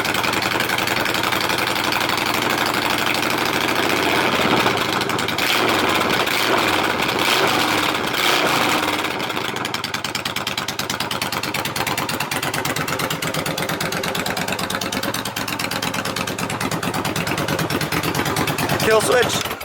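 A Yamaha V Star 1100 bobber idles close by with a steady, loud, low-pitched rumble that holds for the whole stretch, while a person talks over it.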